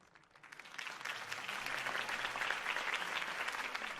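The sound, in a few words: applause at a campaign speech in Batman Telltale video game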